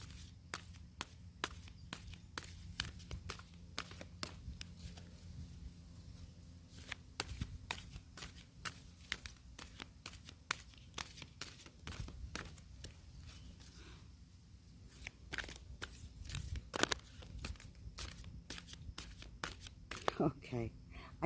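Tarot cards being shuffled by hand, a rapid, close series of crisp riffling snaps and slaps repeating almost continuously for about twenty seconds.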